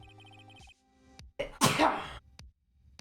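A single loud, close sneeze bursts out after a stretch of quiet electronic game music and chimes from a Phoenix Wright: Ace Attorney stream, followed by near silence.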